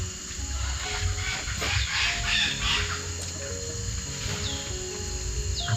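Chickens cluck and call in a durian orchard, fairly near but not loud, over a steady background hum and scattered faint bird chirps, with no talking.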